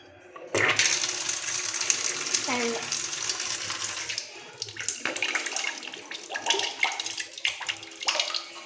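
A kitchen tap gushes water into a sink, a loud steady splash that starts abruptly, then turns choppy and uneven with clinks and splatters, and faint voices behind it.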